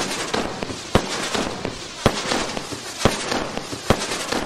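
Firework battery in the Fireworks Mania video game firing rocket-like shots, four sharp loud bursts spaced about a second apart over a steady crackling, hissing bed.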